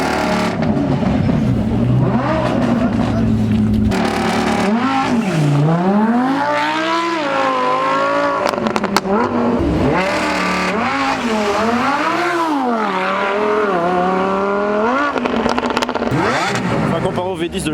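Lamborghini Huracan STO V10 engine revving hard and accelerating through rising, falling pitch sweeps, loud and continuous throughout, with people talking over it.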